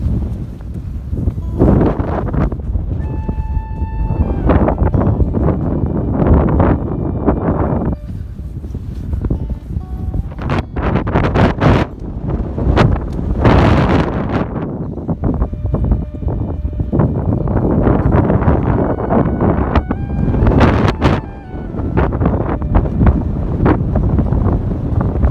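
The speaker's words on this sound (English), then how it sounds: "I've just arrived at the Cliffs of Moher, and there is a wind gust advisory." Strong wind gusts buffeting the microphone at the Cliffs of Moher, a loud continuous roar with surging rushes and brief lulls, no speech.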